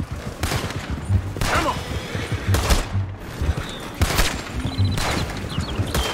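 Gunfire in the video game Red Dead Redemption 2, a rapid string of loud close shots in uneven bursts roughly every second, with horse hoof clatter and a brief spoken line.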